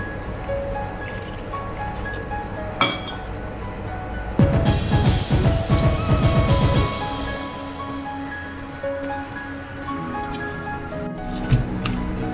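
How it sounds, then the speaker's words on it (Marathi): Wet squishing and slapping of flour dough being kneaded by hand with water, a dense burst of sticky squelches in the middle, with quieter dripping and handling before and after. "आता पाणी घालून आपण मळून घेऊया."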